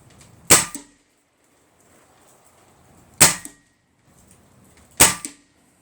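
Three sharp pellet gun shots, each a crisp snap with a short tail, spaced a few seconds apart with quiet between them.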